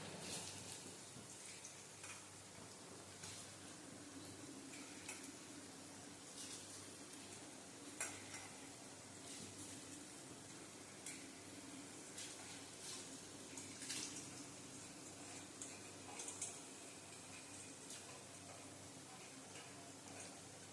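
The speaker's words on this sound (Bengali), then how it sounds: "এবার আমি চালটা দিয়ে দেবো।" Rice being tipped into a pot of mutton biryani and stirred with a ladle, a soft continuous sizzle and wet scraping running steadily throughout with a few louder clatters.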